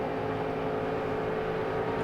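Steady, loud drone of a 500 horsepower Roush Yates V8 engine in a 2,275 pound race car at the Rolex 24 at Daytona, a continuous rumble with no talk.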